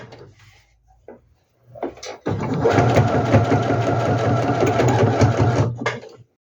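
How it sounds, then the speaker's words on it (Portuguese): Sewing machine stitching a bag of geometric-print fabric, a few clicks and handling knocks first, then a loud, close, continuous rapid stitching run lasting several seconds before stopping abruptly. "Retiro o prendedor e costuro até o final."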